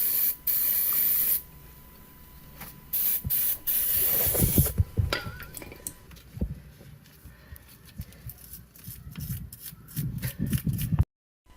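Brake cleaner sprays in long hissing bursts onto the rear brake caliper mounting bracket of a 2015-or-later Subaru WRX. The spray gives way to shorter blasts, quick clicks and handling noises, then stops abruptly near the end.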